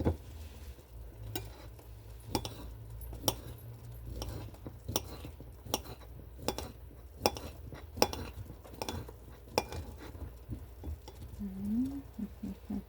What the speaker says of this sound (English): And then we'll cut our sausage into little bite-sized num-nums